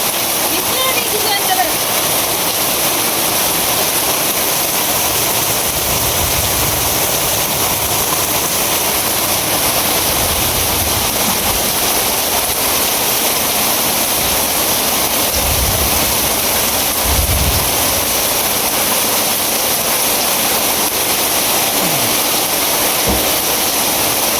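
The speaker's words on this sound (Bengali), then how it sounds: "প্রচুর বৃষ্টি শুরু হয়েছে, প্রচুর।" Heavy rain pours down steadily as a loud, dense hiss that fills the whole stretch, with a few deeper thuds and rumbles breaking through now and then beneath the constant downpour.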